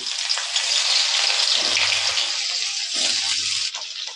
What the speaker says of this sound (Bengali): এবার সেই তেলের মধ্যে দিয়ে দেব কুচে রাখা ফুলকপি